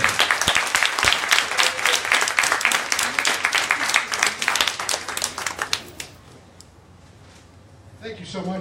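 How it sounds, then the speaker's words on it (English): An audience at a book event bursts into loud, dense applause to welcome a cartoonist onto the stage, sustained for several seconds before fading out, with faint talking afterward. "let's welcome Ruben Bolling."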